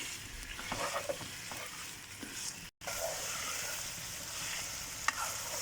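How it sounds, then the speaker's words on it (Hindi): Chicken pieces fry in a pan for white chicken karahi, a steady close sizzle with stirring scrapes throughout and a brief gap midway, no talking. "और अभी हम इसको अच्छी तरह से फ्राई करेंगे।"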